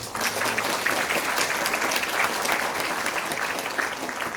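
Dense, even clapping from an audience at a Korean forum on local autonomy law reform, a steady wash of applause lasting several seconds without pause.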